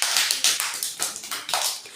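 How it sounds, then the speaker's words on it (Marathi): Group of children clapping together in a classroom, a quick run of sharp, close handclaps of uneven rhythm, rising and falling over two seconds. "वेदसाठी जोरात टाळ्या वाजवा"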